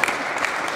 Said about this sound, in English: Mr. Cullen, please give him a round of applause.